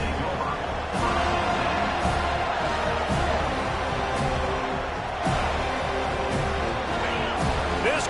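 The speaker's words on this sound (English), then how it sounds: "This crowd bringing the energy and noise early." A football stadium crowd roars during an FSU versus Michigan game: a dense, steady wash of cheering with swells every second or so, under a commentator's voice.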